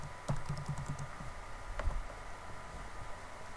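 Quiet clicking of keys on a computer keyboard, a short burst of several quick taps followed by a lone tap, faint over a steady background hiss, with no speech.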